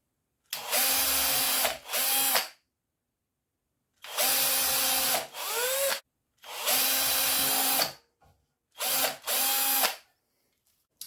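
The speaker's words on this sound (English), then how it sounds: "I'm going to drill a hole all the way through on the bottom here." A power drill whirs through wood in four separate bursts, each lasting a second or two, with short pauses between and a brief faint blip near the end.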